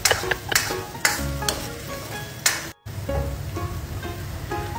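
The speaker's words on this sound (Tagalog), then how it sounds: "Ayan, mag-isa na tayo ng bawang at sibuyas" Garlic and onion sautéing in a pan for chicken sotanghon soup, a steady sizzle with sharp scraping stirs and spoon clinks near the start, a brief dropout midway, then continued frying alone.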